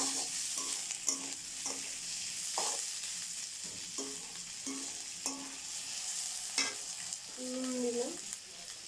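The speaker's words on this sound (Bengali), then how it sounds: "কারণ পেঁয়াজটা একটু ভাজা হবে।" Two large onions frying in a pan and being stirred with a utensil: repeated close scraping strokes in an uneven rhythm over a low, quiet sizzle.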